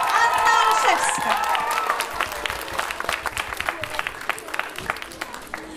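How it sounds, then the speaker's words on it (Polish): Concert audience applauding a youth music school performance, dense clapping loud at first then thinning into scattered claps with some crowd noise and voices underneath. "Wielkie brawa!"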